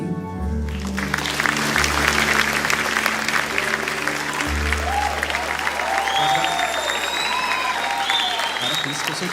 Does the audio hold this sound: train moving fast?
no